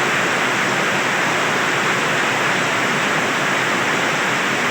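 Floodwater rushes through a street and pours into a house, producing a dense, unbroken hiss and roar like a waterfall, steady and loud throughout with no voices.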